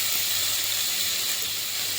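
Chopped green chilies hit a hot, thick-walled uruli and sizzle in a steady, even hiss that stays constant and close, with no talking.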